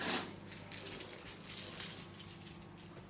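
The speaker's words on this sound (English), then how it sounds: "Now, my keys." Keys jangle and clink continuously for about three seconds in a reptile room, a close metallic rattling with small bursts of brighter jingling.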